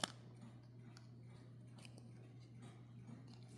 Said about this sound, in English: you're going to need to use your scissors